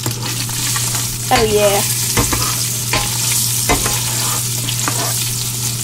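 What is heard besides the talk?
stirring cicadas frying in a pan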